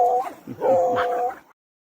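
Frightened dogs give a short, close burst of high whining and whimpering with a small yip, lasting little more than a second before going quiet.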